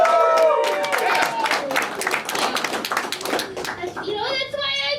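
Comedy club audience at the DC Improv breaks into loud, close clapping, a quick burst of individual claps that fades and then swells briefly again near the end.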